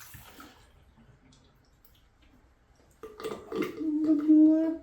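Tap water runs near a sink while face product is washed off, quiet at first and then a louder steady splash and stream in the last two seconds, with brief low talk early on.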